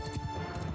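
Horse hooves gallop in the medieval battle game Mount & Blade II: Bannerlord, a quick burst of rhythmic thudding clip-clop as mounted archers ride in, set against a steady game hum.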